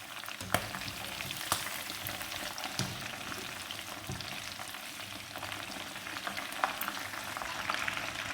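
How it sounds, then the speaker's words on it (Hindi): Chicken pakora fritters frying in hot oil, a steady close crackling sizzle with scattered sharp pops running throughout, no talking. "5 से 7 मिनट में ये अच्छे फ्राई हो जाएंगे"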